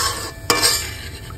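Spices stirred into water in a cooking pot, with a brief sloshing, scraping stir and a sharp utensil knock against the pot, close and short over a soft sizzling background, no voices.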